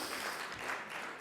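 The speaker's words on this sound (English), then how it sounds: "Okay, you can clap now." Brief, fairly faint applause from an audience at the opening remarks of a conference, a soft continuous patter of many hands lasting barely over a second.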